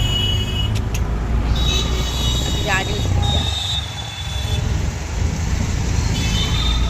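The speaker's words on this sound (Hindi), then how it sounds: "बहुत शोर हो रहा है, गाड़ी चल रहा है ना" Tempo auto rickshaw engine and road noise heard from inside while riding, a steady loud rumble with passing traffic sounds, as someone speaks briefly over it.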